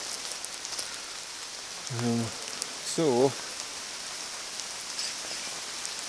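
Light rain falls steadily outdoors on a walk at Whiting Bay, a soft even hiss in the background while a voice briefly speaks a couple of times.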